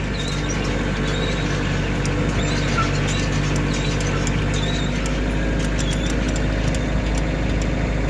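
Steady engine drone of a New Holland 56 hay rake running continuously at an even idle, loud and close with a high whine above, no speech.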